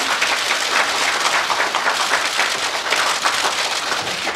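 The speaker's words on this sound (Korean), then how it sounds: "큰 박수 부탁드리겠습니다." Loud, dense audience applause at a ceremony unveiling a 50th anniversary commemorative medal for a singer, sustained and crowd-wide with no pauses, close and full throughout.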